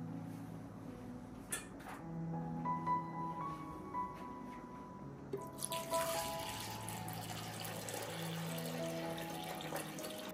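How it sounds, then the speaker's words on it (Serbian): A cooking pot lined with a cloth and packed with jars is filled with water from a kitchen tap; the stream starts quietly, then gushes louder and steadier midway, with faint clinks of glass and no voices. "Šerpu ću napuniti sa vodom."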